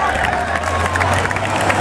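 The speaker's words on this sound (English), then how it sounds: "They cheer this stuff on." A crowd cheers and shouts in a loud, continuous wash of mingled voices and noise, with a low steady hum underneath throughout the short burst.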